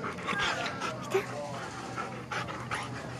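A dog pants steadily at close range, with a faint whimper breaking through, while a person talks over it in a room.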